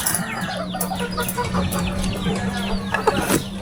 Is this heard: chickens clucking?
yes